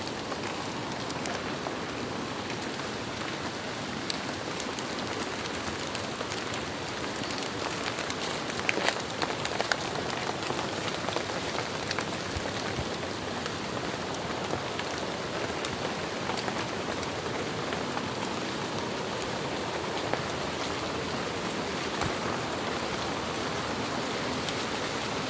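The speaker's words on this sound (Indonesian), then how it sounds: "Hujan pemirsa, stop dulu." Steady rain pours down during a motorcycle trip in Banten, a constant, even hiss of drops hitting surfaces that runs without a break, with no one talking.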